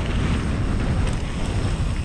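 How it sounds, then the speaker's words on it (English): Strong wind buffets the microphone at the top of a mountain bike course before a mass start race, a loud, constant rumbling roar with no speech. "It's a little windy up top."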